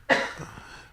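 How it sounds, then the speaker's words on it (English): One short, sharp cough rings out in a room and fades quickly, with no talking over it. "coughing in the background"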